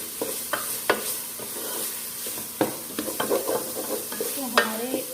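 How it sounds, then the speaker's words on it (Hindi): Split chickpeas (chana dal) roasting in a pan, a steady sizzle with intermittent stirring clicks and scrapes of a spoon against the pan, close up and without talk. "चने की दाल डाल देंगे। इसको हम अच्छे से भून लेंगे।"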